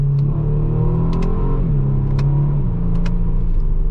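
A 2019 Kia Stinger GT AWD engine revs loudly from inside the cabin as the paddle shifters drop it from third to second, a rising drone followed by a firm shift and a steady rumble, with no talking.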